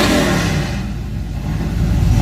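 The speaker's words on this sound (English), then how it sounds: "I know y'all heard that juice on that black truck." Black truck engine at a drag strip, loud broadband roar revving up near the start, easing slightly, then building again through the end with heavy low rumble.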